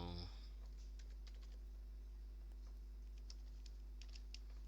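Soft, quick keystrokes patter on a computer keyboard, faint and close, over a low steady hum.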